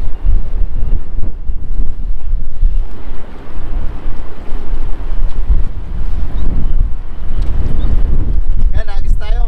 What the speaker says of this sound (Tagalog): Pasensya na po at medyo mahangin po ulit.